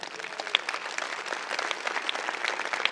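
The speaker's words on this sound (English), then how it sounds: "I applauded as well" Church congregation applauding, a dense patter of many hands clapping at an even level, sustained and moderately close throughout.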